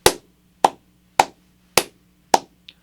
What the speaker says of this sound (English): So clapping it would sound like this.